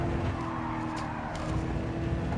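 A car slides sideways through a corner in Gran Turismo 7, driven with a Logitech G29 wheel. Steady tire scrub rides over a loud, constant engine drone.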